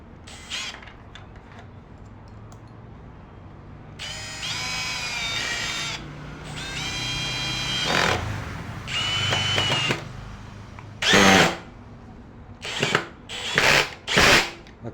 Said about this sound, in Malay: Kita gunakan skru besar 3 inci kita tengok macam mana.